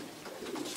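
A soft, low pigeon coo, brief and fairly faint.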